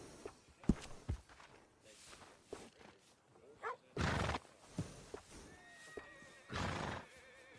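A horse in the video game Red Dead Redemption 2 whinnies loudly several times, with scattered hoof clops and footsteps between the calls, close and clear.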